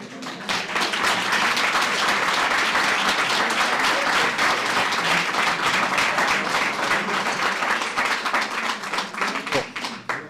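Audience at an evening talk with a child psychiatrist breaks into sustained, loud applause, a thick continuous clatter of many hands lasting about ten seconds before thinning out.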